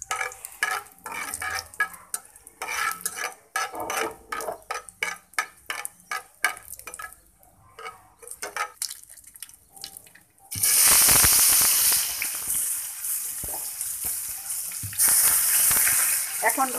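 Four or five dried chillies fry in oil in a wok for spinach, first with scraping stirs and clatter, then a loud, sustained crackling sizzle in the latter part.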